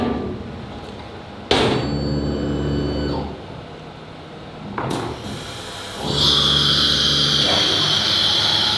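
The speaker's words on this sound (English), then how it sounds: "The compressor just started up. It's a bit noisy." In a workshop beside a CNC machine, an air compressor kicks on after a few sharp mechanical clunks and whirs, then runs as a loud, steady, broad roar with a hissing edge.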